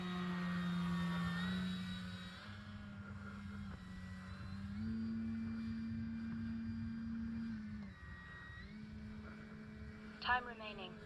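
An E-flite Carbon Z Cessna 150T RC model plane on its maiden flight gives a steady, faint electric motor drone with shifting pitch as it passes, with occasional muffled voices and a brief sharp click near the end.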